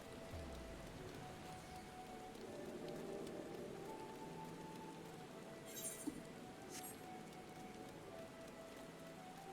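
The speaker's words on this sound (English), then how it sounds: "Rain!" Soft, steady rain patters on surfaces throughout in a video game (Final Fantasy XIV Online), with a faint low hum beneath and a brief clink partway through.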